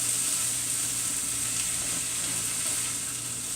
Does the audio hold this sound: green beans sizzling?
yes